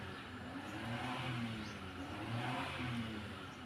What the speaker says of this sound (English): Keep revving his bike up now